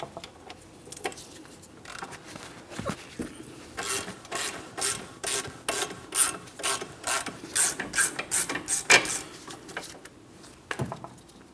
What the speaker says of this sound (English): I'm going to fully remove the upper bolt.